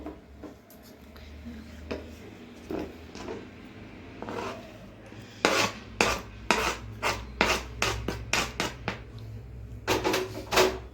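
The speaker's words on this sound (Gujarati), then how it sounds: "ટમેટા, લીલા મરચાં એ બધું આમાં મિક્સ કરી દઈશું." Tomatoes and green chillies being stirred into mashed eggplant bharta, a spoon scraping and knocking against the bowl in a series of rhythmic strokes, close and fairly loud, with quieter rubbing before.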